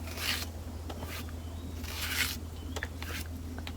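Green bananas (matooke) being peeled by hand in a Ugandan village: soft, close scraping and rasping strokes in separate bursts, over a low steady background hum.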